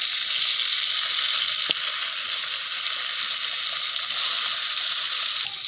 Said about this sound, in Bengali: তেল গরম হয়ে গেছে, এবার মাছগুলো ছেড়ে দিবে।